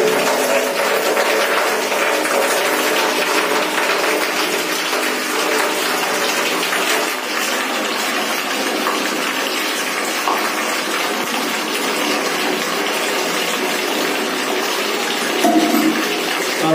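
Water gushing hard from a household tap just reassembled after fixing a leak, a loud steady rushing spray that holds constant throughout, close by and with no talk.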